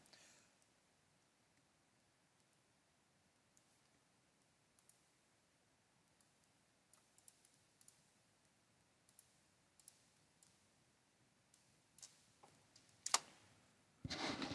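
A password is typed on a computer keyboard, faint scattered key clicks that come slowly at first and then quicker and louder toward the end, close and without talk.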